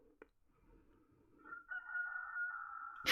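Chickens cluck softly in a farmyard, then a rooster crows with a rising, sustained call that builds toward the end and ends in a sudden loud burst.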